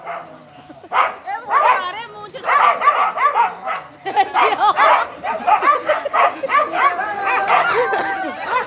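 A dog barks and yips repeatedly at close range, with some whimpering, during a busy nighttime Holika Dahan gathering for Holi, with other voices around.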